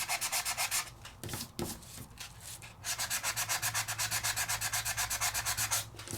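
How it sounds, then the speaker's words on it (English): Sandpaper block rubbing back and forth over embossed foil on card, a steady rhythmic scrubbing of quick strokes, close and loud, with a short pause midway before the sanding resumes. "I want to get in there and get that embossing sanded so you can see it."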